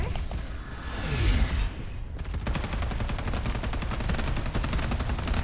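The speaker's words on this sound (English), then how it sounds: "Oh, I'm getting shot from that way." Gunfire in the video game Farlight 84: a whooshing burst gives way to sustained rapid automatic shots firing in a fast, even rhythm, loud and close, with no voices.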